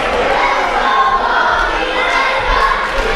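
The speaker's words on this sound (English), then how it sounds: "The crowd at Newport, Vermont, at the municipal building, always willing to let their voice be heard." Indoor wrestling crowd at the Newport, Vermont municipal building cheering and shouting in a steady roar, with occasional thuds from the ring beneath the noise.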